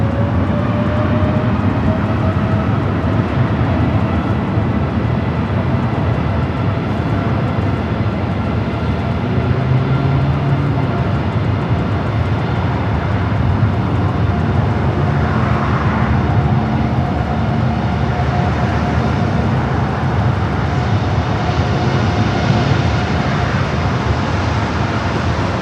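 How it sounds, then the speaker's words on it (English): An Aeromexico Boeing 787-8 Dreamliner taking off at LAX, bound for Mexico City, a loud continuous broad jet roar that holds steady throughout with no speech. "Another 787-8 Dreamliner, flight 647 heading to Mexico City."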